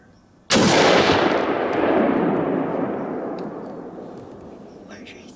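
A single loud rifle shot is fired at a buck during a Pennsylvania rifle-season deer hunt in the woods, with a sharp crack and a long rolling echo that slowly fades.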